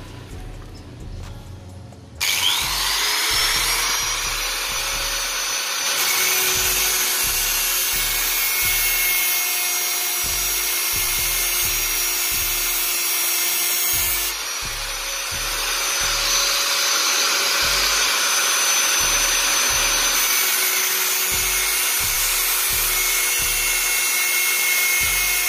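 A grinder grinds down a protruding pin on a Honda Vario FI scooter part, its motor whining steadily near and loud for over twenty seconds with rhythmic rubbing pulses as the disc bites the metal.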